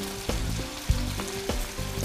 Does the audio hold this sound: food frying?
yes